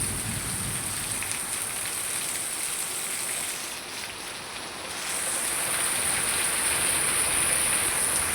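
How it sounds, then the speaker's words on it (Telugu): Heavy storm rain pours down steadily in a dense, continuous hiss, easing slightly for a moment before returning at full strength, with no voices. "వర్షాలు వస్తున్నాయి, వరద వస్తుంది బాగాను"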